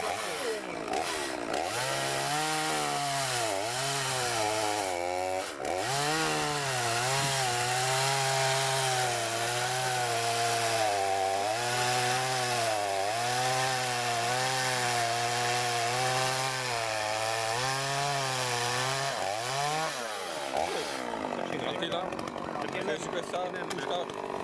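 A chainsaw cuts through dry wood at a chainsaw meetup in Százhalombatta, its engine whining loudly and steadily for about twenty seconds with pitch dips as the chain bites, under background chatter.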